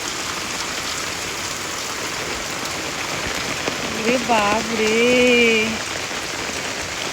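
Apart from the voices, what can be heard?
heavy rain falling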